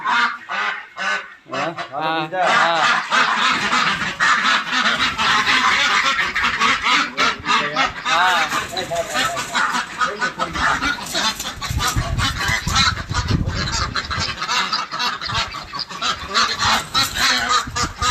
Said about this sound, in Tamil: வாத்து எப்படி கடையுது பாருங்க